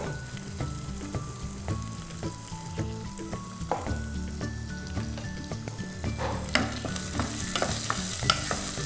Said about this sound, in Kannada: ಈರುಳ್ಳಿ ಹಸಿ ವಾಸನೆ ಹೋಗೋ ತನಕ ಹುರ್ಕೊಳ್ಳೋಣ